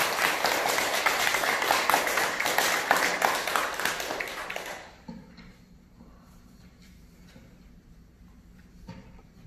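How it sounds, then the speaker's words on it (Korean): Applause from a Buddhist dharma meeting congregation fills the hall loudly and steadily for several seconds, then quickly dies away, leaving quiet room tone with faint bumps. "다시 한번 감사와 뜨거운 박수를 한번 부탁드리겠습니다"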